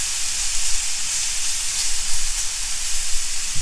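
Super thick pork loin chops sear in a hot skillet, giving a steady, close, bright sizzle that hisses evenly throughout with no talk over it.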